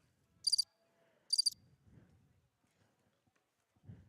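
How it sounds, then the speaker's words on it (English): Crickets chirp at a softball field in two brief, high trilling bursts about a second apart, faint against a quiet background with soft low rumbles and distant movement. "That's crickets."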